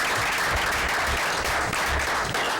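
A room of attendees at a school board meeting breaks into applause, a loud, continuous wash of clapping that holds steady throughout.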